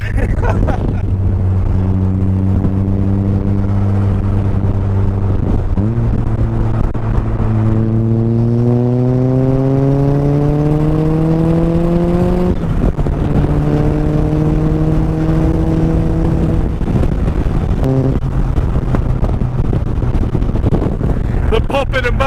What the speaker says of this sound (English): The popping and banging coming out the side of this is just ridiculous.